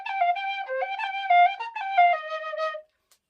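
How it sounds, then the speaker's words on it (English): Tin whistle playing a short, bright melody of clear high notes with a few quick ornaments, close and solo, ending in silence after about three seconds. "Same issue with the tin whistle."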